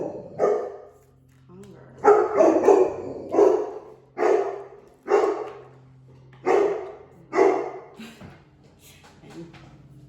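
A dog barks repeatedly in spaced, loud bursts nearby, about nine barks with short pauses between them, a faint voice murmuring underneath.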